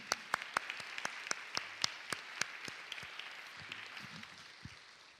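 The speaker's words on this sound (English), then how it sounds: "I want to give them an applause" A church congregation gives a brief, sparse round of applause, a few distinct claps ringing out in an irregular rhythm before trailing off, fairly faint in a reverberant room.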